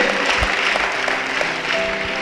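Church congregation applauding after a scripture reading, a steady dense wash of clapping that fills the room without pause.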